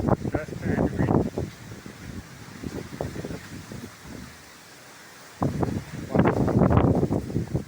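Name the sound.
strong wind of a dusty thunderstorm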